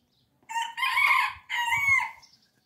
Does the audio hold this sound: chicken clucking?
yes